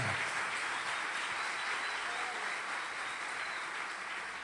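A church congregation applauding during a service, a thick continuous roar of many hands clapping, steady and fairly loud from start to finish with no pauses.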